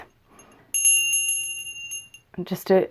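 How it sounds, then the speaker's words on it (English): A bright bell rings once and its clear tone lingers and fades over a couple of seconds. A voice speaks briefly just after. "I have my bell. And obviously that is for clearing space."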